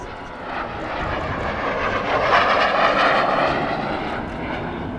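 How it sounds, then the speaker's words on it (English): An SB Lim 2 jet painted as a MiG-15 Bis flies past at an airshow in Southport, a loud, broad roaring rush that swells and fades as it passes. "the Norwegian Air Force Historical Squadron's SB Lim 2, masquerading here as a MiG-15 Bis"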